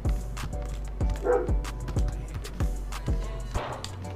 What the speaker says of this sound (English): Now this dog wanna start barking.